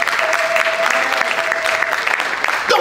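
A church audience bursts into loud, sustained applause, a dense wash of many hands clapping that fades briefly near the end before a fresh burst.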